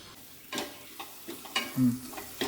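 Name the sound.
spices with chilli, turmeric and salt sautéing in pan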